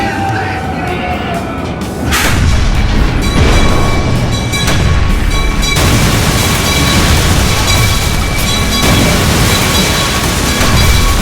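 A mine explosion effect on the Calico Mine Ride at Knott's Berry Farm: a loud boom bursts out and gives way to a sustained roaring rumble of blasts and crashing noise.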